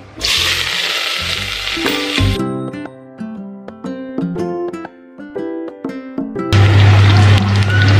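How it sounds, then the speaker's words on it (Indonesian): Onion and garlic go into hot oil for batagor and sizzle loudly up close. A musical passage interrupts the frying, and then the hiss of frying returns strongly at the end. "Sekarang kita goreng dulu bawang bombay dan bawang putih."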